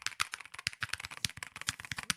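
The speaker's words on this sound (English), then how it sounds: "The man with the loudest keyboard ever." Rapid, loud clattering keystrokes from a very noisy computer keyboard, close up and continuous with no voices over it.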